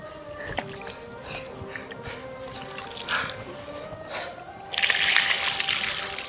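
A pot of water is poured over a Shiva lingam at a high mountain shrine. Voices and tonal background sounds come first, then a sudden, louder broadband splash and pour fills the last second and a half.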